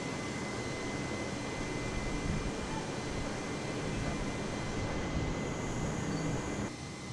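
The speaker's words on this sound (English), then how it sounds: "our aircraft is climbing" An airliner in Air India livery climbs in a flight simulator game, its jet engines making a steady, dense roar that holds evenly and drops slightly near the end.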